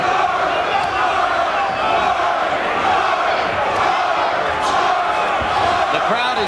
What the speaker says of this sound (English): The crowd is chanting, George, George, George.